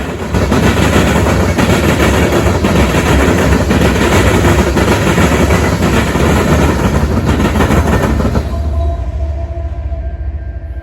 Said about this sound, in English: this rock train had an N-train DPU, which was CN ES44AC 3878